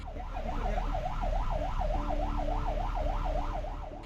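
A 108 ambulance siren wails continuously in a rapid, regular rising-and-falling cycle while stuck in a traffic jam on a national highway service road in Himmatnagar, loud and steady over low engine and traffic rumble.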